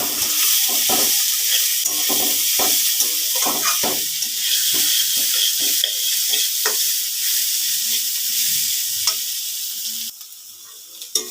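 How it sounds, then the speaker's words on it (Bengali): Mung lentils and chillies fry and sizzle in a pan, with steady crackling and repeated scraping strokes of a stirring spoon, loud and close, the sizzle dropping away near the end. "আবারও নাড়তে থাকবো যাতে লেগে না যায়।"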